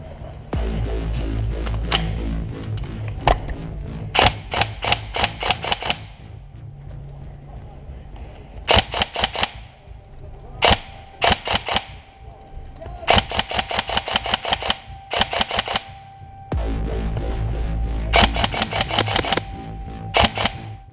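Shots from a Tokyo Marui Mark 18 airsoft rifle during a skirmish, fired in sharp clustered volleys and short rapid strings, loud and close, with quiet gaps between bursts and a low rumble in places.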